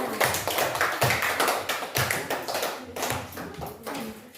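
A classroom of students applauds a classmate, with dense, uneven hand claps continuing steadily throughout, close and fairly loud.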